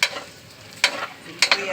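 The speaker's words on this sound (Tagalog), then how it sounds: "Lalagay ko na ang bawang. Para lumasa sa bawang yung tabli." Garlic frying in a pan for batchoy gives a soft sizzle, with a few short scraping stirs cutting in over less than two seconds.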